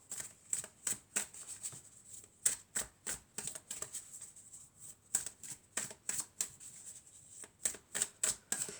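Tarot cards are shuffled close up, a run of quick crisp riffles and flutters in uneven bursts with short pauses between, fairly quiet and with no talk.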